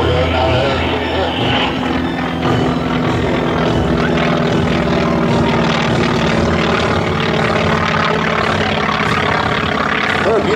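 A propeller aerobatic airplane roars continuously at an air show at Joint Base Lewis-McChord, a loud, steady engine drone throughout, with talk running over it.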